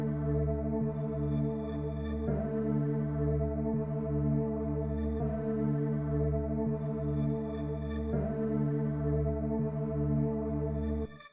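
A dark melody sample built in FL Studio, slowed by a halftime effect and smeared through Portal delay and reverb, plays as a sustained, droning, heavily echoed tone with slow swells and faint high shimmer, moderately quiet and alone before cutting off.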